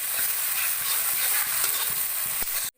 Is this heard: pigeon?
no